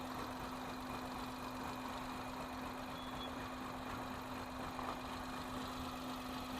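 A Maruti Alto LXI running on LPG and petrol idles steadily, its engine giving off a continuous, even hum with no change in pace and no voices.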